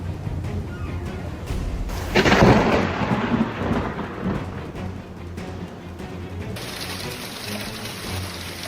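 Thunderstorm at night at a quiet intersection: a loud thunder crack rolls in, then a steady downpour of heavy rain continues, with no voices.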